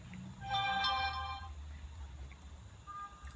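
A phone ringtone plays a short, bright electronic melody for about a second at moderate volume over low background rumble, then fades, leaving a faint indoor hum.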